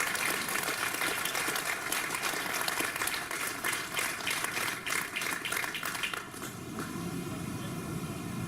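Crowd applause ripples through the stands at a Mid-South Regional baseball game between the Pontotoc Red Sox and Moberly Sixers as a veteran is honored, a distant, diffuse clapping that thins out toward the end.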